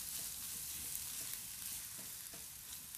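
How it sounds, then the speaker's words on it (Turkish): Tomato paste frying with vegetables in a pot: a steady, dense sizzle with soft crackles and occasional stirring scrapes, close and even throughout. "salçamızı tabii ki her zaman olduğu gibi iyice kızartacağız sebzelerimizle beraber"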